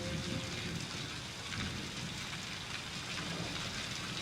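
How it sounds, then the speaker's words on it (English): Rain pours steadily in the video game Season: A Letter to the Future, a dense even hiss of falling drops, soft and continuous with no voices. "I love the rain."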